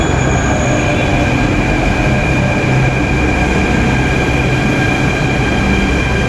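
A Delhi Metro train runs at speed: a loud, continuous roar of wheels and rails with a steady high whine, heard from inside the car with no voices.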